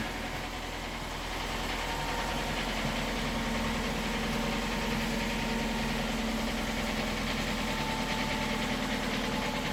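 A vehicle engine left idling to charge its battery, with a steady close rumble and faint knocking vibration holding constant throughout, and no voices.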